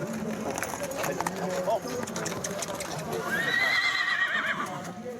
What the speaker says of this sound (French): Ça, ce sont mes chevaux.